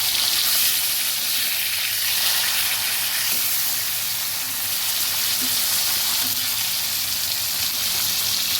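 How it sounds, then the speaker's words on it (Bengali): Koi fish frying in hot oil, a dense, steady bubbling sizzle that stays even and fairly loud throughout, close up with no voices. "মিডিয়াম ভাবে ভেজে নেব হালকা হাতে"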